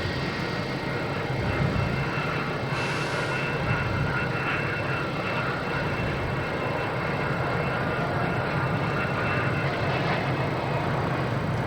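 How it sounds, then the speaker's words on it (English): American Airlines Airbus A321neo landing on runway 4 right at Boston Logan, a steady broad jet roar with a continuous rushing engine wash heard from the ramp, moderately loud and unbroken. "we have an American Airlines coming in on 4 right. Coming in from Phoenix, an A321neo"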